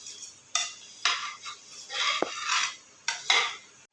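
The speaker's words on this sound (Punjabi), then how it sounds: "ਸੇਵੀਆਂ ਤੇ ਪਹਿਲਾਂ ਆਪਾਂ ਭੁੰਨ ਲਈਏ ਇਹਨਾਂ ਨੂੰ" Dry vermicelli being roasted in a pan at home, with sharp metal clinks and scrapes of a utensil against the pan in irregular bursts and softer rustling stirs between them, close by, with no talking.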